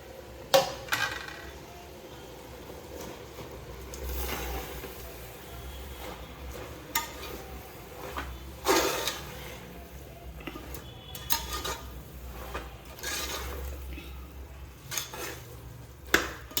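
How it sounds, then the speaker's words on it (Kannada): Fenugreek and spinach leaves frying in a pan while being stirred, with a soft continuous sizzle under repeated scraping and clinking of a spoon against the metal pan, some louder knocks scattered throughout. "ಚೆನ್ನಾಗಿ ಸ್ವಲ್ಪ ಫ್ರೈ ಮಾಡ್ಕೋಬೇಕು."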